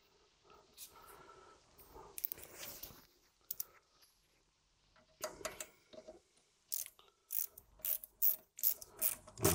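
A screw on the front shock absorber of a Renault Twingo 1 is tightened, stiff in a hole that may have been tapped and painted over. Quiet bursts of ratchet clicking come in short runs separated by pauses, getting more frequent and louder near the end.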